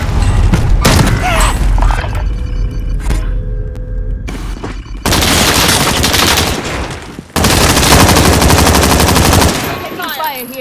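Sustained machine gun fire in Call of Duty: Warzone, loud and dense, with rapid bursts that stop briefly and then resume in heavy volleys, mixed with booming impacts.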